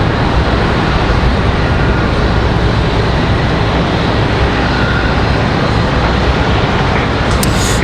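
An MD-11 at Raleigh Durham airport gives off a loud, continuous jet rumble, dense low roar that stays constant the whole time.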